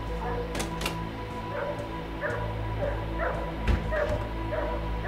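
A dog in the horror game TheNightfall gives repeated short yips and whimpering cries at an even pace under a low steady hum, close, with no talk.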